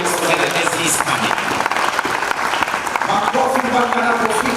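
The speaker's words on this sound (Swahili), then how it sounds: "Let us put our hands together as he's coming." An audience applauds loudly and continuously as a speaker comes up to the podium at a church gathering, the clapping dense and sustained with a voice over it.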